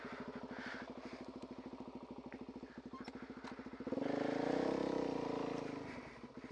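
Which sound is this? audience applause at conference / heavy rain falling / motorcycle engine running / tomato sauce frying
motorcycle engine running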